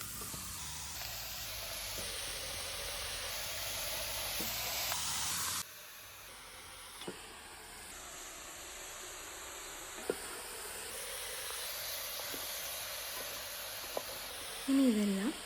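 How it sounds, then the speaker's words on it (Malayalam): Two kilos of cleaned beef with turmeric go into a hot pot for a traditional beef roast, giving a long, even sizzling hiss with occasional small pops and a brief clatter near the end, with some talk mixed in. "ഇനി ഇതിലേക്ക് നമ്മൾ വൃത്തിയാക്കി വെച്ച ബീഫ് ഇടണം"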